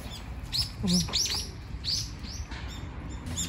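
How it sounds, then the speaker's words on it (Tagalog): Several birds chirp and tweet in quick, bright bursts, fairly close and clear over a soft outdoor background in Japan, with no one talking. "May mga ibon."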